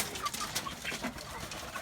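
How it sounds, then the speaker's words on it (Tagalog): Free-range chickens, Rhode Island Reds, Ayam Cemani and Brahmas, give a short run of soft clucks and coos close by outdoors. "Mga manok."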